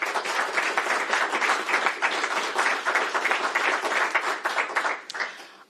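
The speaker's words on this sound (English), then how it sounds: "That, folks, deserves a round of applause" Audience at a governor's budget press conference on affordable housing breaks into applause, a sustained, moderately loud patter of many hands that tapers off near the end.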